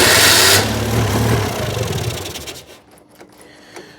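The small engine of a 2CV-based Falcon S kit car, abandoned for 23 years, runs roughly just after starting with a struggling carburettor, then fades and dies into near silence.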